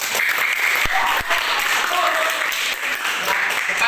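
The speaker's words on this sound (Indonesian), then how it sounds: "Tepuk tangan semua." A class of students claps together in a school room, a continuous busy patter of many hands with a few sharper individual claps, and voices mixed in underneath.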